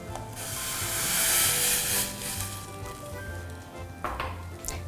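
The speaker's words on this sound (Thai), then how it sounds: "เราตั้งน้ำเอาไว้แล้วนะคะ เราก็เติมกะทิลงไปค่ะ" Coconut milk pours steadily into a pot of water, a hissing, bubbling stream that swells and then tapers off, with a few small clinks near the end.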